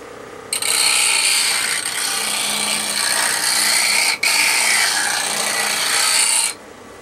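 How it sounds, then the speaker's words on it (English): A fingernail gouge sharpened on a Blackhawk grinder in an Ellsworth jig, with a loud, close, continuous rasping grind of steel on the wheel that lasts about six seconds and is broken by one brief cut-off. "I'm going to put a fresh edge on it using my Blackhawk"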